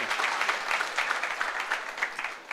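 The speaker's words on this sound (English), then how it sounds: "You can clap hands." A crowd at an innovation space launch event claps hands steadily, a dense, even patter of applause that holds for a couple of seconds before easing off at the end.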